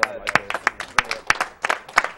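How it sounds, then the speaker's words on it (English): Scattered clapping from a small group at a speedrunning marathon event, uneven and lively, with voices talking over it. "I think another round of applause."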